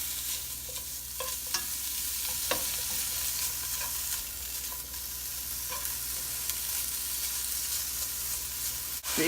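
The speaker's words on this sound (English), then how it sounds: "I'm gonna add the 1/2 pound of bacon. Get that kind of sizzling a little bit." Half a pound of bacon sizzles in a large preheated pan, a steady close crackling hiss with occasional sharper pops and faint stirring, no talk.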